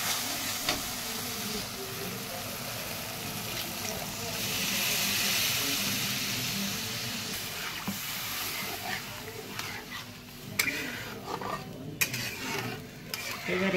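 Water poured over prawns frying in a pan sets off a swelling hiss of steam, followed by stirring, scraping and clinks of utensils against the pan.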